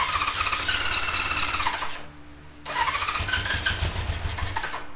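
A 1977 Suzuki GS550E that has sat unused for two years and has a flooded cylinder, its starter motor cranking and squealing in two long close bursts separated by a brief pause, engine not yet catching.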